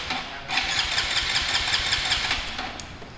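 Close, loud cranking of a flooded Honda Grom motorcycle that refuses to fire, the starter grinding in a steady rhythmic pulse for a few seconds before trailing off.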